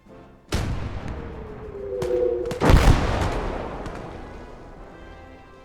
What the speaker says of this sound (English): We send a bit of howitzer activity their way to try and reduce the numbers that are coming towards us.